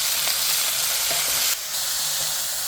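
Green chili peppers stir-frying with soy sauce, a loud close sizzle with stirring scrapes, briefly dipping then hissing on again.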